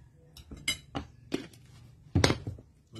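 A utensil knocking and scraping against a bowl as kilaw is stirred, a handful of close, irregular clinks and taps, with one louder clattering scrape near the end.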